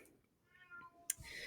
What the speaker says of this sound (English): And that is my cat breaking into my office.